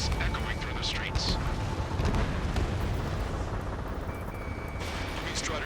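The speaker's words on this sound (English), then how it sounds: "Gunfire and the roar of jets echoing through the streets." Gunfire and roaring jets from the Ace Combat 7 combat flight game form a dense, continuous loud rumble with rapid bursts of shots, and faint voices come through the din.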